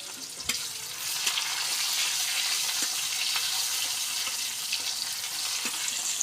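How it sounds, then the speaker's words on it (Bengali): Cumin seeds, crushed garlic and chopped onion fry in hot oil in a home kitchen, a steady close hiss of sizzling with occasional spoon scrapes and taps against the pan. "এখন আমরা দিয়ে দিব কাঁচা জিরা, থেতলা করা রসুন, সাথে পেঁয়াজ কুচি। সুন্দর করে আমরা আগে ভেজে নিব দেখুন।"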